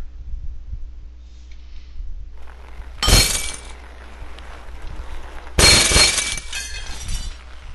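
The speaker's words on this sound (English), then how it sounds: "Break glass fun." Glass shatters twice in the Happy Wheels game, two loud bright crashes a few seconds apart with tinkling debris trailing after each, over a low steady background hum.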